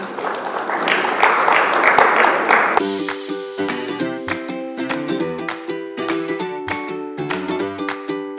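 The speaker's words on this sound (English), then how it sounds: "Let us give them a round of applause." Audience applause at a high school national debate, a full burst of clapping for about three seconds that then cuts sharply into music with a steady beat.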